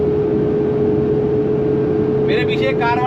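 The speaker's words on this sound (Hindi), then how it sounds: "पखे की आवाज सुनो, ट्रक के पखे की आवाज है।" A truck's engine cooling fan roars as a loud, steady, broadband whoosh with a constant hum, heard close while driving; a brief voice comes in near the end.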